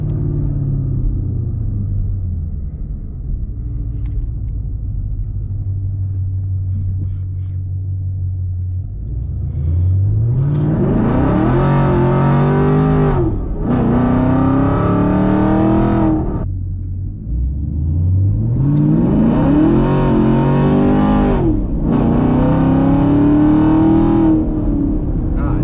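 A 500 whp sixth-generation Chevrolet Camaro SS on Mickey Thompson drag radials idles with a deep rumble, then roars through two hard full-throttle pulls, rising revs cutting sharply between shifts, loud and close from inside the car.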